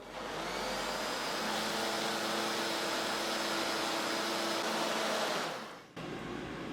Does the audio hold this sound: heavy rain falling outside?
no